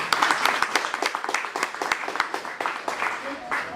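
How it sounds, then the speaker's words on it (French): Audience applause at a Father's Day special event held by a social-action NGO, with dense clapping running throughout alongside voices and cheering. "Applaudissez pour ça là maintenant."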